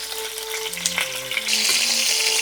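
Chicken pieces frying in hot oil give a steady hiss that swells louder partway through, with a few soft knocks, close and without speech.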